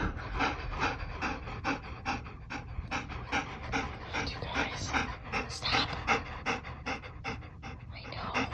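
A dog anxious from fireworks pants heavily and rapidly, a close, steady run of rasping breaths that continues without pause.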